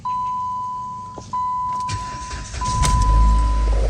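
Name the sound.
Dodge Avenger engine starting and idling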